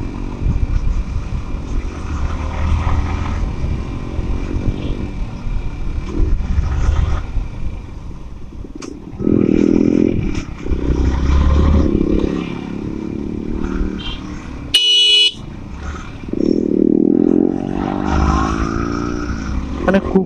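A Yamaha R15 V4 motorcycle rides along a road, its engine droning steadily with surges and rough clatter, close and fairly loud, with a brief sharp burst near the end.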